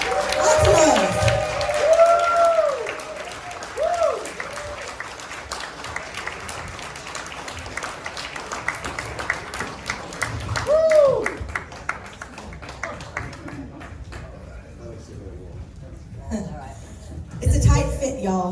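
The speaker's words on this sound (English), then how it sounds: "Okay, please, everybody, give it up. Applause." An audience claps and cheers for an Aliens reunion panel at a Days of the Dead convention. The applause is moderate and scattered, and several voices speak and call out over it before it thins out.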